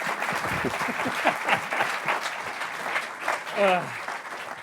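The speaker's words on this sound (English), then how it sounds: "All right, look, first round of applause." An audience claps and applauds steadily for a few seconds, with some voices and a brief whoop mixed into the clapping.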